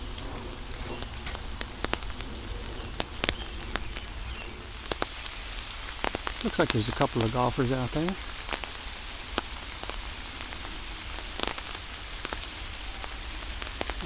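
Steady rain patters on the ground and foliage along a wooded trail by a golf course in Wissahickon Valley Park, Philadelphia, continuing throughout with someone speaking briefly over it.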